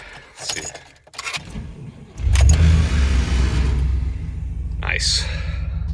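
Keys jingle briefly before a pickup truck fitted with a new cold air intake cranks and fires up, its engine settling into a loud, steady, deep running rumble close by.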